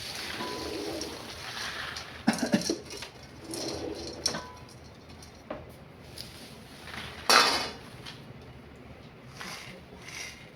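Fried chivda ingredients mixed together in a pot produce scattered clinks and a few sharper metallic scrapes, with pigeons or doves cooing softly in the background.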